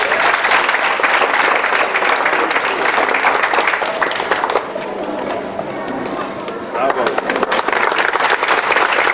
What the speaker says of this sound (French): nous demandons d'assistance capable d'applaudir